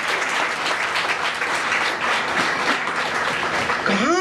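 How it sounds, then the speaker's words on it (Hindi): A loud, dense round of applause from an audience fills the space evenly throughout, with a short whistle near the end. "एक जोरदार तालियों के साथ।"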